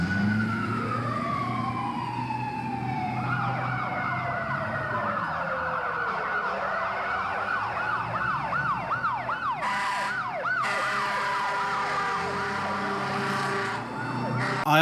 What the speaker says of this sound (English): There's a serious fire scene where you can hear the siren wail and the building caught ablaze.